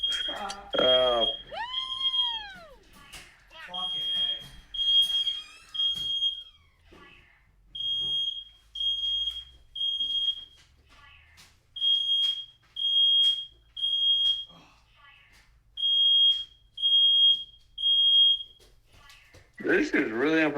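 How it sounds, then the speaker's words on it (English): A household smoke alarm chirps in a steady series of short, piercing beeps, spaced evenly and clearly audible, while someone talks and reacts over the first seconds and again near the end. "Hold on, my fire alarm went off. That's my fire alarm."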